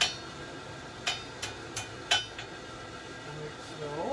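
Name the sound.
hammer striking a forge weld on an anvil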